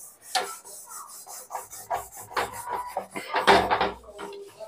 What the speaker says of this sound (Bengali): তো দেখো মেজে নিয়েছি আমি, নিচে নামিয়ে একটু গরম করে নিয়েছি।